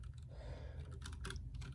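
Typing on a Duck One 2 Mini mechanical keyboard in Pure White, a short burst of close clicky keystrokes over a steady low hum.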